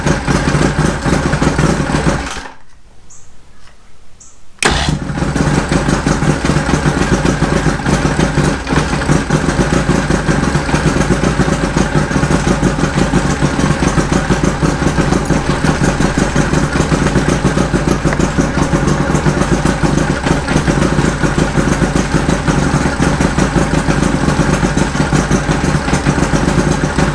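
A Mercury Thunderbolt 500 50 hp outboard engine roars loud and close on its first run. It cuts out for about two seconds, then restarts and keeps running steadily.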